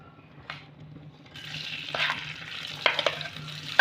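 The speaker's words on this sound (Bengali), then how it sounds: "চালটাকে কিন্তু বন্ধুরা একটু ভেজে নিতে হবে।" Rice coated in turmeric and ghee frying in a pan over low to medium gas heat for Bengali basanti pulao, a soft sizzle with stirring scrapes and a few sharper clicks of the spoon, steady and close.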